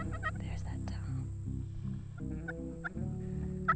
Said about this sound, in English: There's that tom.